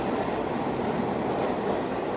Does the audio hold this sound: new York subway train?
yes